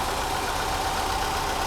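Mercedes W123 230CE running after repair of its fuel distributor, a steady close engine drone and idle with no talk.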